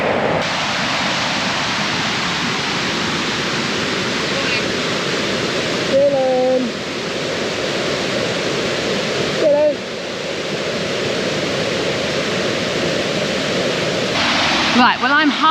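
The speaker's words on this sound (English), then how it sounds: "Right, well I'm halfway up these Triberg waterfalls." The Triberg waterfalls in Germany's Black Forest, the country's highest falls, give a loud, unbroken roar of cascading water from partway up the falls, with a few brief faint voice sounds rising over it.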